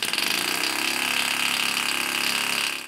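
A compressed-air piston engine with 15 mm piston travel runs steadily, giving a fast, even mechanical chatter and hiss at a constant loud level. The sound cuts off near the end, with no talking.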